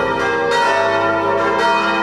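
A small church bell in the bell tower of Monaco's Notre-Dame Immaculée cathedral rings loud and close, its strikes blurring into a continuous, rich ringing tone with no talk.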